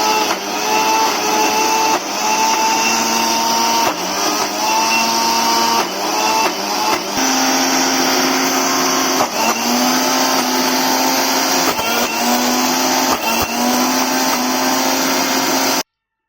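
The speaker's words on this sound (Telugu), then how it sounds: "మిక్సీ జార్లోకి వేగిపోయిన మింట్ అండ్ కొరియాండర్ని జార్లో వేసేసి ఇది కూడా మిక్స్ చేయాలి" A mixer grinder runs steadily for about sixteen seconds, blending fried mint and coriander leaves with turmeric and salt into a coarse chutney, a loud high whine broken by short pulses and brief stops.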